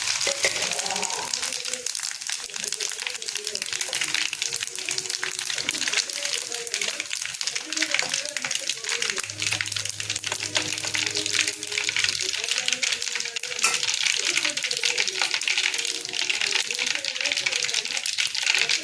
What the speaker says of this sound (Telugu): నూనె కాగింది. తాలింపు గింజలు వేసుకుందాం.